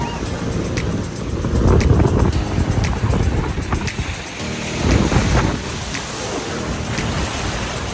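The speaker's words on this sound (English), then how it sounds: "the sound of the waves, the fresh ocean breeze" Ocean waves and a fresh breeze at a Hawaii beach around sunset form a loud, steady rushing wash with two stronger surges, wind buffeting the microphone and no talking.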